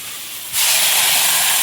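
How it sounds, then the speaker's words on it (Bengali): Water poured into frying papaya in a pan sets off a sudden loud, steady hiss after a brief quiet moment, continuing strongly to the end. "এবার পেঁপের মধ্যে জলটা দিয়ে দেবো।"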